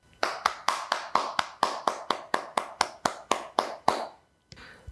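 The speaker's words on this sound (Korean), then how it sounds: "우리 하나님께 영광과 감사의 박수를 올려드리겠습니다." Congregation at a Wednesday church prayer meeting clapping in unison, a steady rhythm of about fifteen crisp, evenly spaced claps that stop abruptly, followed by a faint shuffle.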